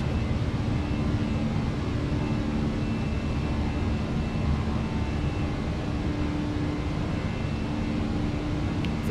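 Steady, loud engine drone of a simulated Air Canada Rouge Airbus A319 climbing out of Toronto, a constant broadband roar with a low hum running unbroken through the whole stretch, no voices.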